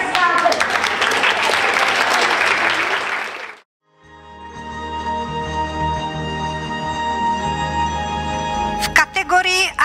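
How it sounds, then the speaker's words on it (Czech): An audience at a Czech fairy-tale prince and princess event applauds loudly for several seconds, then a brief silence gives way to music-like steady tones and a few sharp claps near the end. "Zatleskáte."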